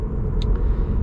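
Low engine rumble from a 2006 Maserati Quattroporte M139 with about 390 horsepower, a steady loud drone heard from inside the car during a brief moment, with a faint high tick partway through.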